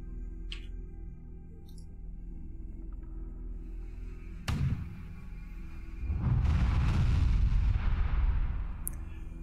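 Mortar fire in the video game UFO2: Extraterrestrials, with a sharp distant crack followed a moment later by a heavier, rumbling explosion that swells and slowly fades over steady game background noise.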